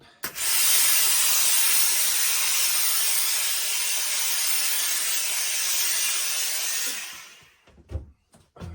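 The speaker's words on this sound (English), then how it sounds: "So let's put a bit of steam on and we'll see what happens." A steamer sends a continuous loud hiss of steam onto an Akubra The Boss western-style felt hat for about seven seconds, close by, then cuts off, leaving a few soft handling knocks.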